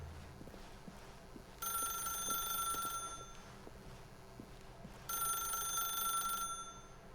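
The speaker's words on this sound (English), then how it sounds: "pick up the phone" A telephone rings in The Stanley Parable video game, two bright, trilling bell bursts about a second and a half long, separated by a pause, sounding clearly over a quiet background.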